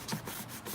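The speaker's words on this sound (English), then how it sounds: "So I'm just sanding it gently with this." Painted wood sanded lightly by hand with a piece of fine 220-grit sandpaper from an orbital sander, giving a faint, soft rubbing hiss in a few quick strokes close by.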